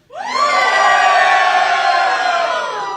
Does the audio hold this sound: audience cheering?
yes